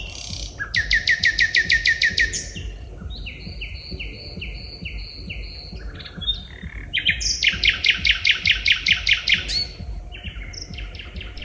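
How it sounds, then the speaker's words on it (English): Two nightingales sing back and forth at night along a forest path, with rapid repeated chirping phrases alternating with clear whistled notes over a low, steady background rumble. "there were actually suddenly 2 nightingales communicating with each other"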